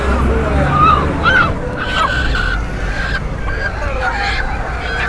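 Mangala ducks call at a busy poultry market, with honking quacks rising over a constant crowd murmur and nearby chatter.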